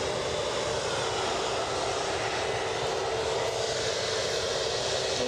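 A jet with Rolls-Royce RB211 engines sounds off at Edinburgh Airport, producing a continuous, even roar with a hissing upper edge and no voices over it.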